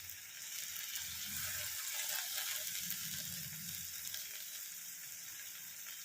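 Hand-squeezed tomato hits a hot pan of frying yard long beans, producing a steady, close sizzle that hisses evenly throughout with faint bubbling underneath.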